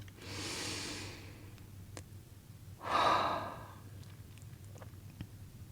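Slow, deep meditative breathing: a soft airy inhale swells over about a second, then after a pause a louder, rushing exhale rises and fades, close and quiet over a low steady hum.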